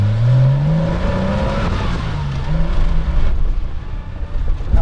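A 1987 Porsche 911 Carrera engine revs on a dirt road, with close, loud rising and falling engine notes and rumbling road noise throughout.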